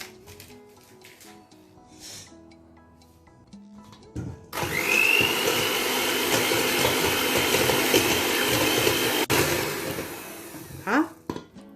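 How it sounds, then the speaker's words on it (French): A whisk beats cake batter for bessbousa, a semolina cake with apricots, in a bowl. Soft faint taps and tinkling come first, then a steady loud rushing whir of rapid mixing that goes on for several seconds and trails off into a few scrapes. "Je mets tout ensemble et je vais les battre avec le fouet."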